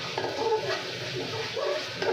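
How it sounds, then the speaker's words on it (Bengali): Chicken pieces frying in a pan for biryani, a steady close sizzle with soft stirring scrapes rising and falling every half second or so. "চিকেনগুলো ছেড়েছিল, চিকেনগুলো একটু ভাজা ভাজা হয়ে যাক"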